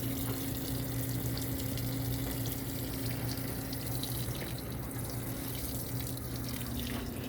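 A GE top load washing machine fills with water on a deep fill, bulky items cycle, a steady rushing pour with a low hum underneath, close and continuous without speech.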